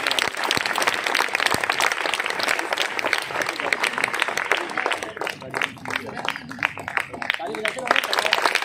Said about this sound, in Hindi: सब लोग ताली बजाना है।